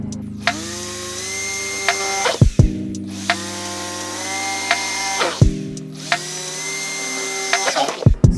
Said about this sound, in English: we will take the drill and we'll start drilling the holes that we have created